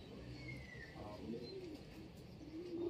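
A pigeon coos softly in low, rolling notes, with a few faint chirps of other birds in the background.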